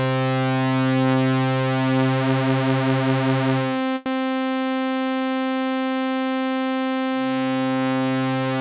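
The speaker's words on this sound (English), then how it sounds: "That's the 2 oscillators playing." Two oscillators of a Sequential Take 5 synthesizer sound a steady, loud sustained tone with a wobbling low layer, a brief click midway, then a purer held pitch before the low layer returns.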